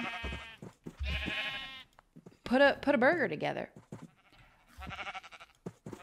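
Sheep in the video game Minecraft bleat in a few wavering, nasal cries, up close and clear, alternating with a person talking.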